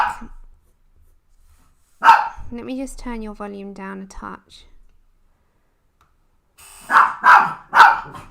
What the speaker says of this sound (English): Alright, we have a dog barking.